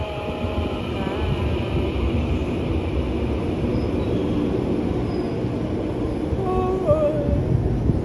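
A steady, heavy rumble of a moving train in Taiwan fills the whole stretch, with a brief high metallic squeal of wheels near the end.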